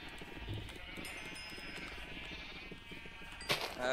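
Sheep bleating in the game Minecraft, a steady wavering bleat heard under background game noise and chatter, with a sharp higher burst near the end.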